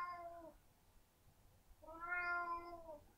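A cat meows twice, first a short meow and then after a pause a longer, louder drawn-out meow, both close and clear against a quiet background.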